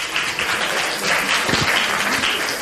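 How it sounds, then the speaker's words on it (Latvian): Audience applause for the physics-math faculty at a university quiz contest, a dense, steady crowd of clapping that stays loud throughout. "Aplausus Fizmatiem."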